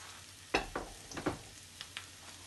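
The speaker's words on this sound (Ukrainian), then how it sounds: "Готую помішуючи, щоб трошки підм'як перець і цибуля." Green peppers and onion frying for lecho give a soft, low sizzle, with a few distinct scraping stirs of a spoon in the pan, close but quiet.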